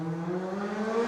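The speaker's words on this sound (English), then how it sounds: "Did you guys all hear that car going by? Racing by?" A car races past outside, a steady whirring engine drone with rising harmonic tones, fairly faint and distant, with no talk over it.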